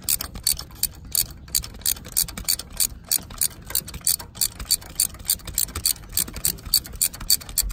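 A ratchet wrench loosens a spark plug on a Honda Pilot engine, a close, rapid series of sharp clicking ratchet strokes repeating in even bursts across the whole stretch.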